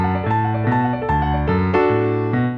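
A piano plays part of a song at a slowed tempo, evenly spaced chords and arpeggiated notes stepping along clearly, close up and with no voices.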